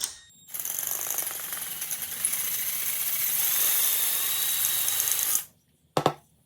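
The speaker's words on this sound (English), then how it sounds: "you're basically just going to drill right through here" A power drill bores through a golf club driver head with a steady high whine and grinding for about five seconds, then stops abruptly, followed by a brief short burst of the drill.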